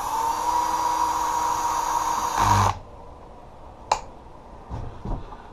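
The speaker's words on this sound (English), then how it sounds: "I like having a light too with this drill" A cordless drill with a built-in light runs at a steady high whine, close and fairly loud, then cuts off abruptly, leaving faint scattered clicks and handling noises.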